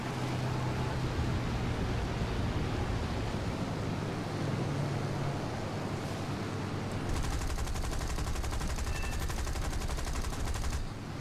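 Aircraft machine guns on an F2A-1 fighter fire in the video game War Thunder, a dense continuous rattling burst that intensifies midway and holds steady as a loud, rapid stream without talk.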